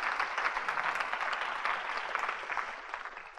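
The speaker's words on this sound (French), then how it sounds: "Et tu peux acclamer là" A church congregation at a marriage seminar applauds steadily, with dense, continuous clapping and a few cheers running for several seconds at moderate distance.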